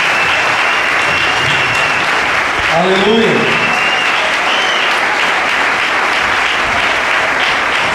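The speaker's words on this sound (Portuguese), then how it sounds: "Vamos aplaudir o Senhor mais uma vez." A church congregation applauds steadily in a large hall, the dense clapping filling the whole stretch while a voice shouts a brief exclamation near the middle.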